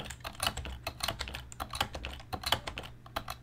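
Rapid, close clicking of keys being typed on a Color Computer keyboard, irregular bursts of crisp taps with no talk.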